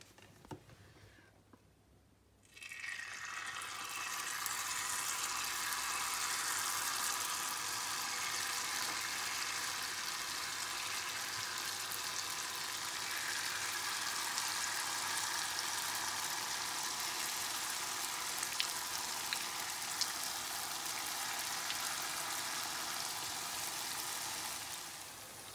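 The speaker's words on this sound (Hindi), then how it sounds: "जलेबियाँ हमारी फ्राई हो गई हैं" Jalebi batter fries in hot ghee with a steady, bright sizzle that starts abruptly after a quiet moment and continues evenly, close and moderately soft, with occasional small pops.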